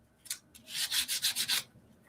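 Light sandpaper strokes rub across an acrylic painting surface, a few quiet isolated passes followed by a quick rhythmic run of about six close back-and-forth scrapes.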